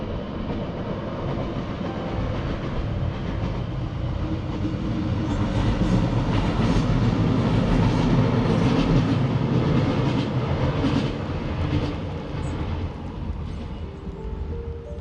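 A train rumbles past with a heavy, continuous roar that swells in the middle and eases off toward the end.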